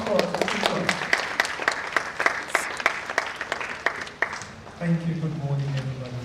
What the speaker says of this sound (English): A round of applause for him as he comes forward to speak to us.